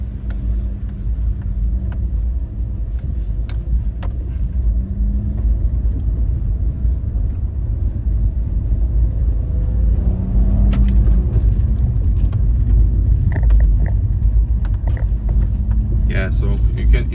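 A 2023 Fiat 500 city car on winter tires driving over bumps, heard from the cabin: continuous low road and engine rumble with faint thumps and light rattles, with a voice speaking over it at times.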